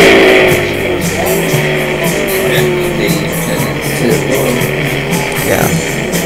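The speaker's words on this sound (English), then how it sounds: "That's what 90 horsepower sounds like in this car." A 1964 Ginetta G4 competition sports car with a high-revving 90-horsepower four-cylinder engine, heard racing on track as a loud, sustained engine drone with shifting pitch and passing traffic noise.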